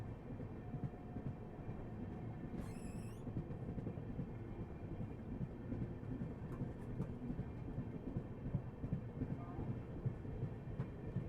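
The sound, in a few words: Vande Bharat train passing during a crossing at Aara junction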